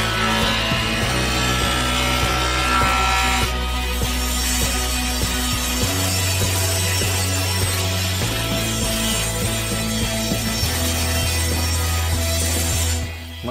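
Wooden boards for sturdy wooden steps are machined and cut to final size, producing a loud, continuous power-tool drone whose pitch shifts as each cut begins and ends.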